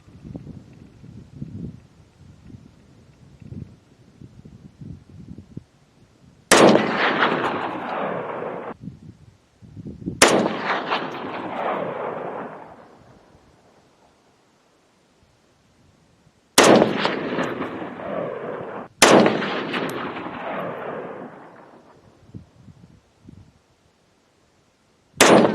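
Four loud SKS designated-marksman rifle shots are fired from a truck bed at range targets. Each sharp crack is followed by a long rolling echo, spaced several seconds apart, with quieter handling noises in between.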